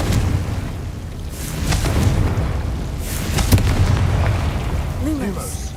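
A fiery spell blast erupts in a Hogwarts Legacy game battle, several booming explosions and pops over a noisy background, with a voice speaking briefly.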